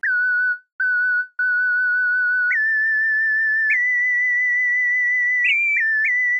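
A whistle synth patch on a synthesizer plays a clean, pure whistling melody of sustained notes with slight vibrato and small upward slides, loud and alone.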